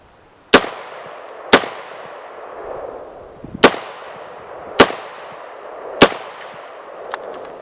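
CAR15 retro reproduction rifle firing 77-grain hand loads outdoors at a range, with five sharp, loud shots spaced about a second or two apart and a fainter sixth report near the end, each leaving a short ringing decay.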